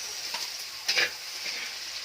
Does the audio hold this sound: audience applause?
no